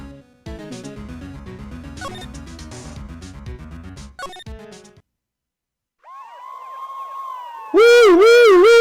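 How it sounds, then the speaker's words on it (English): A police siren from the Ace Attorney video game wails loudly with rising and falling electronic tones, entering just after a stretch of game music ends and a brief silence. "That is the sound of a police!"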